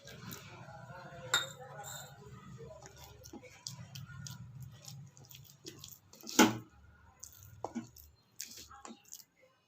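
Pancake batter being stirred in a bowl as milk is added bit by bit, soft wet squishes and clinks of the spoon against the bowl, with a sharp clink near the middle and quiet talk throughout.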